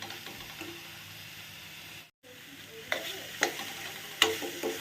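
A beetroot mixture fries in ghee in a frying pan with a constant low sizzle. After a brief silent gap, scraping stirs and a few sharp spatula clinks follow, with no voices.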